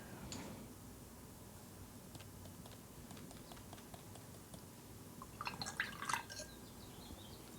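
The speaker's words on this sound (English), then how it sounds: "maybe I'll just add some splatters of water in there too" Water splattered onto a painting in an art studio: faint, scattered dripping taps through the clip, with a denser cluster of small splashes near the end over a quiet room hiss.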